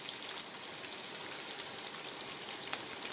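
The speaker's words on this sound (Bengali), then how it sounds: "প্রথমে পেঁয়াজগুলো আমি ভেজে নিচ্ছি" Onions fry in a pan at the start of chicken kosha, giving a soft, steady sizzle with faint crackles and pops throughout.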